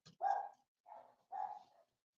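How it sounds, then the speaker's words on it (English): Dogs outdoors bark three times in short, separate bursts that sound fairly close, with pauses between them and no other sound behind. "find why these dogs are barking"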